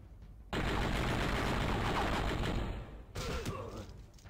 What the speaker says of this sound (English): Who's shooting at me, huh?